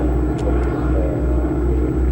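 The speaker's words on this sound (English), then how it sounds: "although it's a Harvard, they call that an SNJ down in the States, don't they? But that's right, it was a carrier-based airplane." A North American Harvard (SNJ), a carrier-based trainer, flies at an air show at Cranbrook Airport. Its engine gives a steady, heavy propeller drone with a faint rhythmic pulse, fairly loud and continuous throughout.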